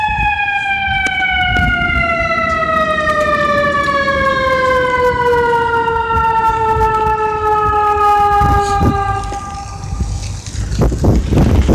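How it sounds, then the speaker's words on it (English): A fire truck siren wails loudly nearby, one long descending tone that slowly falls in pitch, with traffic rumble underneath and no one speaking. "It's part of the fire truck, it sounds like it."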